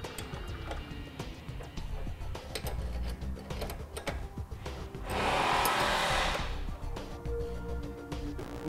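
A power tool tightens a nut onto a rear recovery bumper on a 2012 Jeep Wrangler, a short whirring burst of about a second amid outdoor clinks and handling noise, close and moderately loud.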